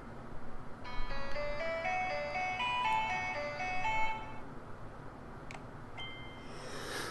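A melodic fragment plays in the Musaic Box Android puzzle game, a bright music-box-like tune of stepped notes for about three seconds, then a few isolated chimes against a steady low background hum, with no talking.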